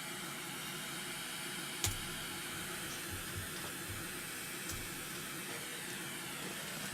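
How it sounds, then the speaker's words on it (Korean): A loudspeaker plays a steady pink noise test signal during an acoustic measurement of plastic-wrapped absorption panels, picked up by a plastic-covered microphone. It is a continuous, even broadband hiss with a few faint low thumps and clicks. "핑크 노이즈 끄고요"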